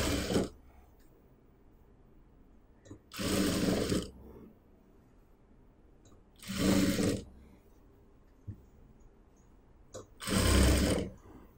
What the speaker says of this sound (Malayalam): ഈ തുണി ഉള്ളിലേക്ക് ഇതുപോലെ വെച്ചിട്ട് ഒന്ന് സ്റ്റിച്ച് ചെയ്യണം